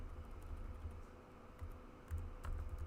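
Steady typing on a computer keyboard, close and fairly quiet, with bursts of quicker clattering keystrokes toward the end and no talking.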